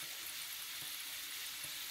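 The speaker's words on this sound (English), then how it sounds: "I'm going to see you on the other side while I fry the dumplings" Jamaican dumplings fry in hot oil, giving a faint, steady sizzle with soft crackles throughout.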